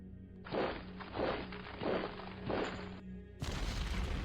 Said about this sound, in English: We're definitely taking gunfire.